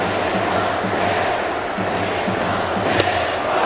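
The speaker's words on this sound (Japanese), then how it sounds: "すごい歓声です" Big crowd roaring and cheering at Koshien Stadium as Abe swings at Fujikawa's fastball in a Giants baseball game, a steady loud wash of voices with a sharp crack near the end.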